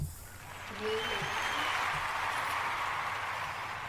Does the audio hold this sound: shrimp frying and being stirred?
no